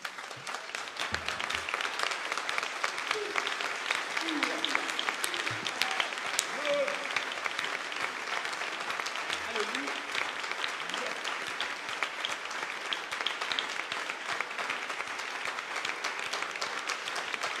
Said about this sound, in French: Je voulais qu'on se tienne debout pour acclamer le Seigneur notre Dieu